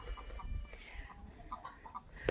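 Chickens and roosters cluck in short, repeated bursts, fairly close, over a steady low rumble of background noise, with no one talking.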